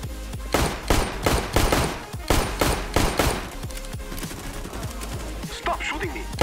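Gunfire in the video game CS:GO: loud, rapid bursts of automatic shots crowd the first four seconds, then thin out into scattered, quieter single shots and distant pops.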